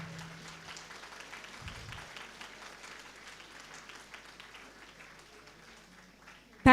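Soft, continuous audience applause fills a school award ceremony on Independence Day, many hands clapping at a low, even level with a faint murmur of voices beneath, ending in a sudden loud burst.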